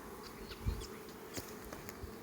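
Honey bees buzz and drone around an early-spring hive, with a steady hum and a few louder passes as individual bees fly close by. No one speaks.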